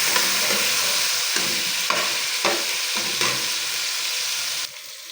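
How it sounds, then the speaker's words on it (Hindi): Tomatoes fry in about half a spoon of oil, sizzling loudly and close up while a utensil stirs and scrapes the pan in repeated strokes for shahi daal, then the sizzle drops away near the end. "यहाँ पर टमाटर हमने अच्छे तरीके से थोड़े से आधे चम्मच ऑयल में फ्राई कर लेने हैं अच्छे तरीके से।"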